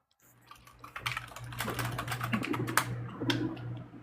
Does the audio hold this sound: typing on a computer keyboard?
yes